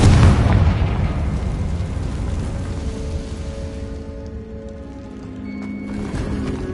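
A Confringo fire spell from Hogwarts Legacy bursts in a goblin mine with a heavy, close boom, then the blast rumbles on and slowly thins out over several seconds, with no talking.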